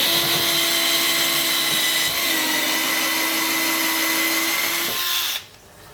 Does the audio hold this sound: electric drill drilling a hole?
yes